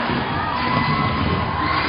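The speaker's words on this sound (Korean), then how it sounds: "오늘 대구 체육관 약 3천 명 이상의 관중이 들어와 있습니다." A large crowd of over 3,000 spectators fills the Daegu gymnasium at a professional basketball game, cheering and shouting in a steady, dense roar that holds loud and unbroken throughout.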